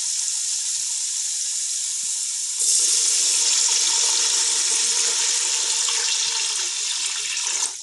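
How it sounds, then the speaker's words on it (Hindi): Water pours steadily into a hot pot of mutton pulao with onions and peas, a bright close hiss that grows louder partway through and runs on with a faint sizzle underneath. "अब हम इसमें पानी ऐड करेंगे।"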